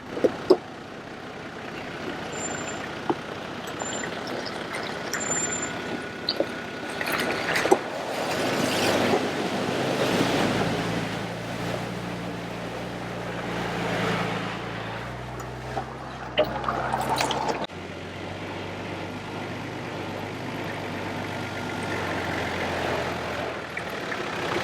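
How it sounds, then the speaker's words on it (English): A vehicle drives through a small, shallow creek crossing in the Gulf country of northern Australia, with a swelling rush and splash of water over steady engine and tyre rumble, close and continuous. "Just coming through a small creek crossing"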